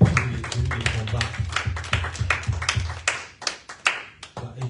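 A worship congregation claps in a steady, rhythmic beat, close and lively, with voices talking and calling out over the hands.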